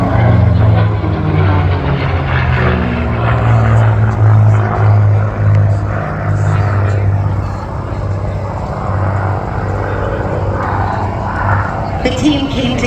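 A Lycoming Thunderbolt IO580 engine with a Hartzell propeller drones steadily at an air show, accompanied by a sustained low whistle that harmonizes with the engine, while an announcer talks over it throughout.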